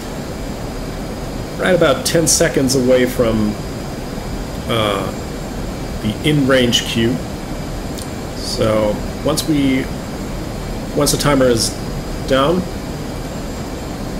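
A steady, even engine drone of an F/A-18C Hornet jet in the flight simulator DCS runs throughout, with someone narrating over it in several bursts.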